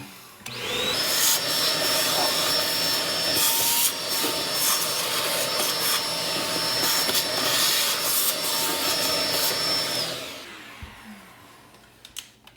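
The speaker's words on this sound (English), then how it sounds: "it's a good idea to suck out some of the debris" A vacuum sucks up debris after a floor vent hole is cut, with a loud, steady roaring whine that runs for about nine seconds, then cuts off to near silence with a few faint knocks.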